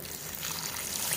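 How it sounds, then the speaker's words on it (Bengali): A little water poured into a pan of spiced potato and tomato masala for crab curry, a short faint trickling pour blending with the hiss of the hot pan. "মশলাটা যাতে নিচে লেগে না যায় সেই জন্য দিয়ে দিচ্ছি সামান্য পরিমাণে জল"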